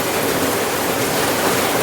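Rain falling on trees in Saraburi, a dense, steady hiss of downpour with no breaks, loud and enveloping.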